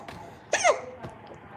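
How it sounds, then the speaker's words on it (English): A single short hiccup, a sudden voiced jolt heard close, followed by faint breathy sounds, with no speech around it. "Oh no, we got the hiccups."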